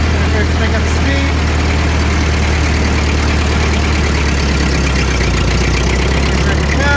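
A Ford 8N tractor engine driving in fourth gear gives a loud, steady low rumble that carries on at the same level throughout, heard from close by.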